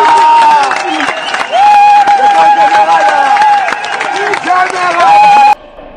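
A crowd at a Congolese political rally claps, cheers and whoops in a loud, dense roar with shouting voices mixed in, then cuts off abruptly near the end.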